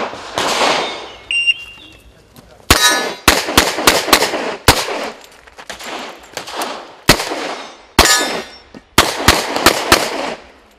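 Rifle or pistol shots at an international shooting competition crack out in rapid bursts, a first volley followed by several tight clusters of loud, sharp reports with brief pauses between them, close and with no talking.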